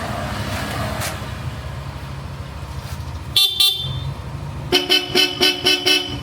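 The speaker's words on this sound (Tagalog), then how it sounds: "solid din ang busina niyan, Bosch Europa" A Bosch Europa horn on a Yamaha Lexi 155 motorcycle honks loudly in two short blasts, then a rapid series of five or six quick beeps, over background traffic noise.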